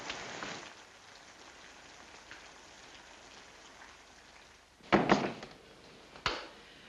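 Steady rain pours throughout a 1948 radio mystery drama sound effect, a continuous hiss with two sharp door thumps near the end.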